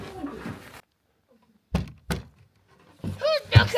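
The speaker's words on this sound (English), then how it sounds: "Who's knocking on my door?" A door being knocked on at a winter park in Rovaniemi, Lapland: two distinct solid thuds after a pause, with talk before and afterwards.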